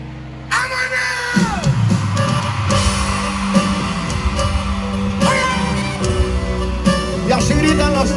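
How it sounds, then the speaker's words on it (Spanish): A crowd of children at a concert in San José, Costa Rica, yelling, whooping and cheering loudly and continuously over the music. "Y así gritan los niños esta noche arriba San José"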